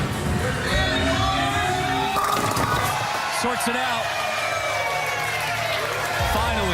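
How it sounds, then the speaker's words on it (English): A bowling arena crowd at the 2019 PBA Playoffs lifts into cheering and whoops after a strike, a loud, continuous roar with a commentator talking over it. "You can hear the crowd kind of jump up a little bit"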